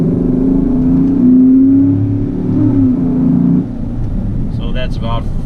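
GMC Sierra pickup engine with a cold air intake, revving up through the gears around 3,000 to 4,000 RPM, a loud droning pull that rises, then drops off at a shift. A short voice comes in near the end.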